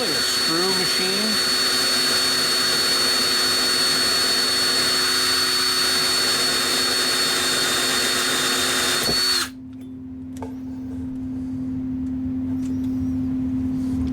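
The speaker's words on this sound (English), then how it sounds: "So it's really a screw machine." A screw machine driving and tapping screws into very soft aluminum, a steady loud whirring drone that runs unbroken for about nine seconds, then cuts to a quieter lingering hum.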